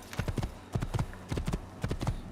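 Horse hooves clip-clop in steady, rhythmic clusters in an Assassin's Creed game, close and fairly loud, with no voices over them.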